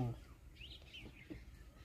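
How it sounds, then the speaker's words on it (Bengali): A few faint bird chirps and whistled calls sound in a quiet forest at Shikiyajhora, brief and somewhat distant. "শুনলে অনেক পাখির ডাক শোনা যাবে।"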